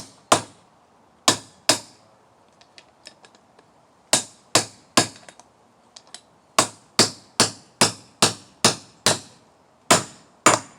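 A hammer drives a bearing race into a trailer wheel hub until it seats, sharp metallic strikes ringing out one at a time, with a few sparse early blows, then a quickening run of evenly spaced, loud, close hits with no voices.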